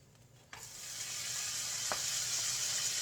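A second batch of sandwiches drops into a hot pan and a steady sizzle rises and holds, fairly loud and even, with a faint tap partway through and no talking.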